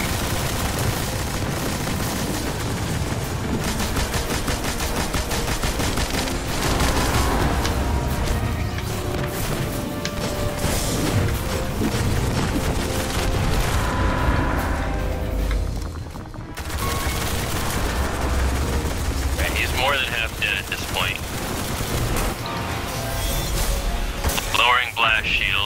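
Gunfire from a Destiny co-op fight against a boss, with weapons blasting in a continuous fusillade. Dense rapid shots and crashing impacts fill the clip, and excited players talk over the barrage. There is one brief lull midway.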